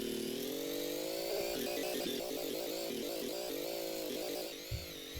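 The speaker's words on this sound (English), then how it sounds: "Engines in this sound so unhealthy." A rough, unhealthy-sounding vehicle engine in the video game Gear Blocks, a steady buzzing drone whose revs waver and stutter midway before easing off near the end.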